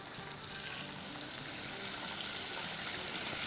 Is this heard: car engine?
no